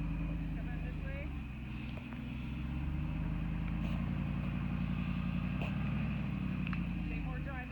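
A Jeep Rubicon 20th Anniversary edition crawls up rocky steps on Wipeout Hill in Moab, Utah, its engine a steady, close low rumble that swells slightly midway, with voices talking over it.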